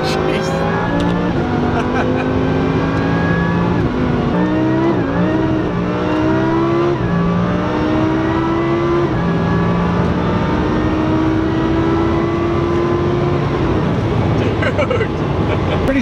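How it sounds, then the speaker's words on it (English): A Renault Clio car engine revving loudly and up close. Its droning tone rises and falls in pitch over a steady roar, with some background noise throughout. "I'm pretty sure that's a Renault Clio."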